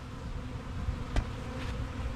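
Honeybees at an apiary hive during an inspection give off a steady, low, close buzzing hum throughout, with one brief knock on a wooden board midway.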